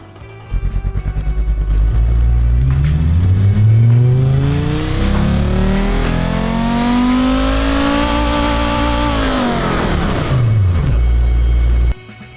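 A small-turbo Group B rally car engine in the game Automation, Audi Quattro inspired, revs loudly and alone, its pitch climbing steadily through a long sweep and then dropping back before cutting off abruptly.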